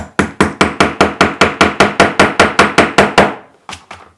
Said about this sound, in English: just hammer it in